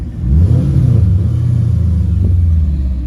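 A Mercedes-Benz car engine revs steadily and loudly nearby, a continuous low rumble swelling and holding for about three seconds with no voices.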